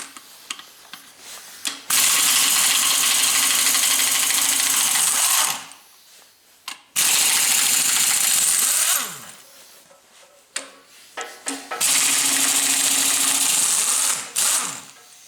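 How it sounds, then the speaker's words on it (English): Crankshaft being lifted out of an engine block during an engine rebuild, with loud, sustained metallic rattling and scraping in two long bursts separated by a pause, close to the microphone. "I'm just going to remove the crankshaft."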